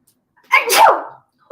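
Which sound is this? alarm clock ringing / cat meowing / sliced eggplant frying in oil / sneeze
sneeze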